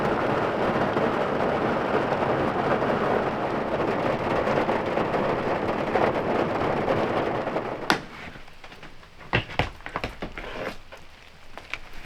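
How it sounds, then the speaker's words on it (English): Rain and distant rumbling from a thunderstorm, heard from a hunting stand in the Wisconsin woods: steady broadband rain for about eight seconds, then quieter with several sharp cracks and rumbles standing out. "we're just gonna wait out this storm"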